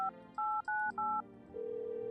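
Touch-tone telephone dialing in the video game No, I'm Not a Human: four crisp DTMF beeps in quick succession, then a steady ringback tone begins, clear and close with nothing else over it.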